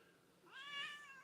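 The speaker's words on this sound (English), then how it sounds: "Welcome to Blaise's Kitty Cats" A pet cat gives a single rising meow, fairly close and clear, lasting about a second against a quiet room background with no talking.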